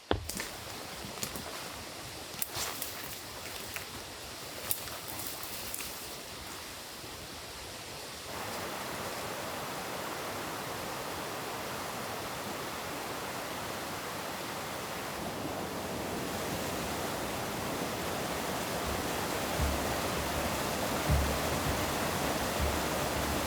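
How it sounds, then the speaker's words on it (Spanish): River in the Pyrenees mountains rushing steadily: a broad, continuous hiss of flowing water that grows louder and fuller after a few seconds, preceded by some scattered handling knocks, with no talking. "No está nada fácil de cruzar este río."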